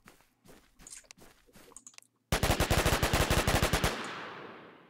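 Automatic gunfire from a weapon in a video game, a sharp sustained burst of rapid rounds firing in quick rhythm and ending in a decaying tail, preceded by lighter scattered clicks and footsteps.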